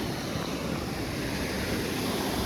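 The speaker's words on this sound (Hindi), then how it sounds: "ये इधर झरना है, अभी पानी कम है थोड़ा सा।" Small forest waterfall with low water flow, a steady, dense rushing and splashing wash heard close, with no voices over it.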